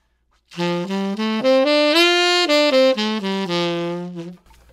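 A saxophone plays a major pentatonic scale (1, 2, 3, 5, 6, 8) up and back down, each note distinct and smoothly connected, loud and close with no accompaniment.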